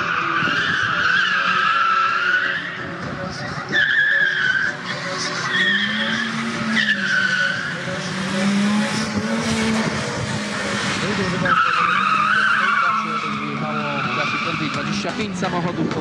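Rally cars on a special stage at the Super OES 2017 event in Nowy Sącz, including a BMW E36 in the over-3000 cc class, with engines roaring and tyres skidding throughout, loud and continuous, under a commentator's voice.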